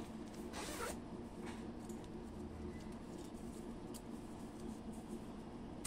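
A zipper being pulled open on a case during an unboxing, heard as a few quiet scraping bursts, the clearest near the start, over a steady low background hum with no talking.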